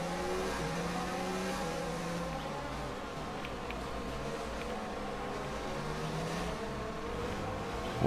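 A Formula 1 race car engine in the F1 2019 video game at the Azerbaijan Grand Prix screams continuously, its high-pitched whine rising and falling steadily with gear changes, with other cars droning nearby throughout.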